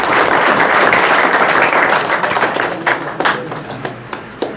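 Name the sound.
loud applause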